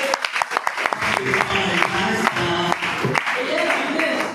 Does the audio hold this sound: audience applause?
yes